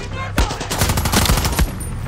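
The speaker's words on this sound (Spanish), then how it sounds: "No sé quién me está disparando" Enemies firing on the player in Far Cry 6, loud sustained automatic gunfire with overlapping rapid shots and sharp cracks throughout.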